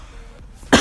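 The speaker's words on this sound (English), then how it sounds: "Man, the cough is on my case." A single sharp cough bursts out abruptly at the end, following a quiet stretch of room tone.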